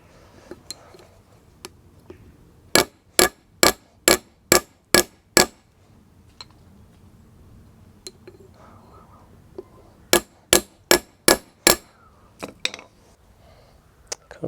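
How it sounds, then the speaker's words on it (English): Hammer blows on a Honda CB125F front brake caliper clamped in a vise, sharp metallic taps in two bursts of about seven quick evenly spaced strikes each, loud and close, with a few lighter knocks after. "I've put it in the vise and given it a whack with a hammer"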